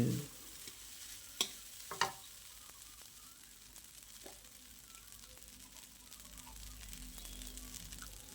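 Egg fried rice being stir-fried in a pan, a faint, steady sizzle with a couple of sharp spatula knocks early on, quiet and close.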